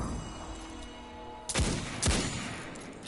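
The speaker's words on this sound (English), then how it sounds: "we have our first instance of a hand cannon. It's what it sounds like." Two sharp, loud revolver hand cannon shots from the Destiny 2 video game, spaced about half a second apart, each a hard crack with a short decaying tail over a low game ambience.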